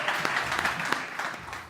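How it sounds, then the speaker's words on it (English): An audience applauds a panel with a short spell of steady, moderately loud clapping and no voices over it. "Big round of applause, please"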